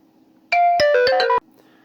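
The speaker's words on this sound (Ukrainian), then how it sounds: "Знайомий з Голландії дзвонить." A phone rings loudly with an incoming call, a short bright melodic ringtone burst of several tones lasting under a second, standing alone over a faint electrical hum.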